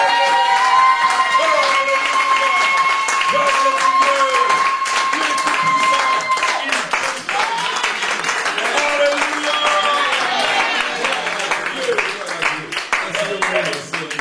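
Church congregation applauding steadily throughout, a dense continuous clatter of many hands with crowd voices and tones underneath.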